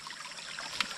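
Water running steadily from a repaired, formerly clogged water line, a continuous soft trickle with a brief splash near the end.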